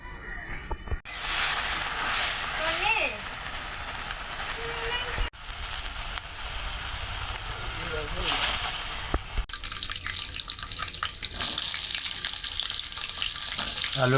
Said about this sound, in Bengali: আগে আলুটি ভাজা নেব বাটা মাছ রান্নার জন্য